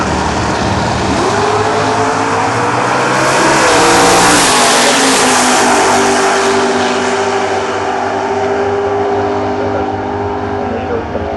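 Drag racing cars roar off down the strip, a loud surge of engine noise peaking then fading as they pull away, with crowd and track ambience around.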